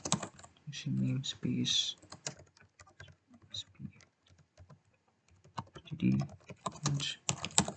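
C++ code is typed quickly on a computer keyboard in soft, rapid bursts of key clicks with short pauses, while someone speaks quietly over parts of it.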